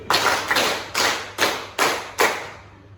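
A classroom group claps in unison on cue: five sharp, evenly spaced collective claps, each ringing briefly in the room before the next.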